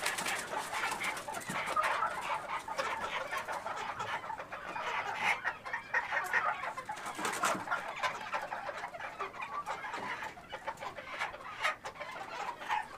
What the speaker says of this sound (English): I got a Seabright rooster and that little tiny buff hen